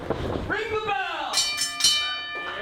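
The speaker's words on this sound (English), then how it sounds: "Ring the bell!" A boxing ring bell sounds at the start of a submission grappling match, giving a few bright metallic strikes that ring out over crowd noise and a voice.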